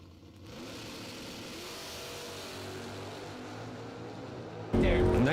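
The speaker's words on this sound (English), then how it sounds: "Nice wheelie out of the Mach 1." A Ford Mustang Mach 1 at a bracket drag race is heard as a steady mid-pitched engine drone at moderate distance, ending in a sudden loud burst near the end of the clip.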